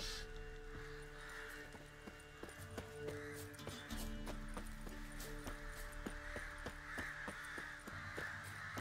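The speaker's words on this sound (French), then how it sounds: "Oh les corbeaux!" Crows caw repeatedly in The Witcher 3 over a steady background of game music and ambient hum, with occasional hoof-like clopping mixed in.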